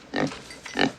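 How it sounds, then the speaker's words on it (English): A farm sow in the 1990 film Misery gives two short, deep grunts in quick succession, close and fairly loud, with no talking. "Oh, the pig's called Misery."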